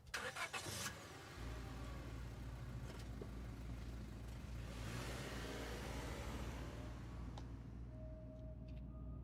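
A video game truck engine cranks and catches, then settles into a steady, low idling rumble that continues without any voices.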